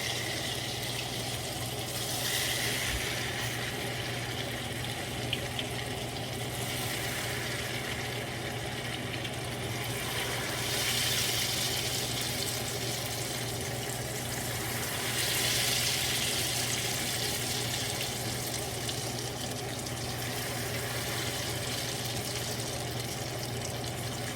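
Ghevar batter poured into hot ghee, a continuous sizzling hiss that surges in waves over a steady low hum, fairly faint and without voices.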